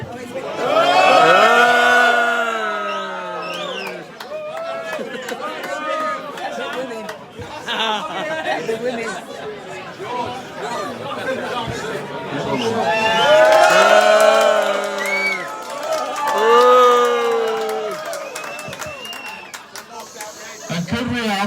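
A pub audience in Bournville cheers and whoops loudly for contestants in two swelling waves of voices, with chatter and shouting between the peaks.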